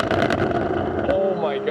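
A Porsche 718 Boxster GTS 4.0 mid-engine, in Sport Plus mode and on throttle, gives a loud, rough, rumbling engine note with a rising tone at the end, mixed with a person talking.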